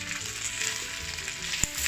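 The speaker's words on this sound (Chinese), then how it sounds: "我们再下入鸡肉， 然后翻炒均匀，给它慢火给它煎香" Chicken slices stir-fried and slowly pan-fried over low heat, a dense steady sizzle close up with a single sharp clink of the spatula near the end and no talk.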